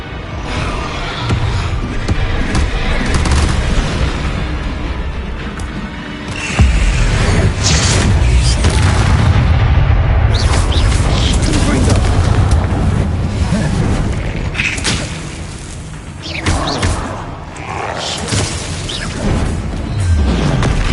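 Repeated spell blasts in Hogwarts Legacy produce a chaotic run of heavy booms, crashes and bursts over a constant rumbling game backdrop, loud and dense with several sharp impacts scattered through the stretch.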